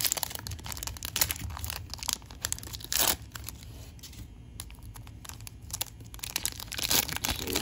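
Upper Deck Series 1 2019-20 hockey card blaster pack wrapper being ripped open, with several bursts of crinkling foil and a sharper tear near the middle, close and alone with no talk.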